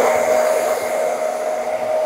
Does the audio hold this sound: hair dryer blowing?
yes